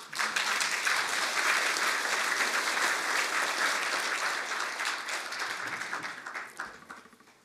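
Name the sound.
audience applause welcoming Park Geun-hye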